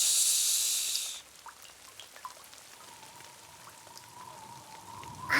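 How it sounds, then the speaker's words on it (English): Rain starts as a bright, steady hiss for about a second, then thins to quiet scattered drips and a soft patter, with a brief louder burst right at the end. "All I hear is rain."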